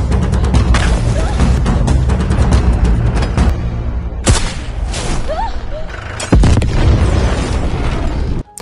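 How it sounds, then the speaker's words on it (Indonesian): Loud landmine explosions in a film as gunshots strike the ground of a minefield, heavy booms and bursts with crackling gunfire in a dense, continuous barrage, several big blasts standing out over the din. "Mani mencoba nembakin tanah biar si Devi itu nggak kena ranjau darat"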